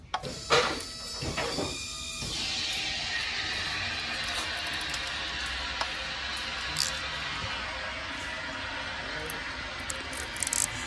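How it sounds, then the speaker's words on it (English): Ratchet cracking loose the oil pan bolts on a Dodge Caravan (Chrysler Town & Country) while oil drains, giving a few sharp clicking bursts early, then a steady broadband hiss with scattered faint clicks. "Just going around cracking my bolts loose while my pan's draining."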